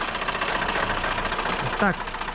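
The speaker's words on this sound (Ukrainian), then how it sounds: "Волгочка працює" A GAZ-21 Volga car engine running on gas idles with a steady, even rumble throughout, with a brief higher-pitched chirp near the end.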